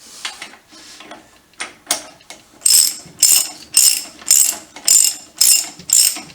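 A ratchet clicks in about eight loud, evenly spaced bursts as it tightens the clamp on a 1959 BSA C15T's bottom yoke holding the fork stanchion, following a few lighter irregular clicks at the start.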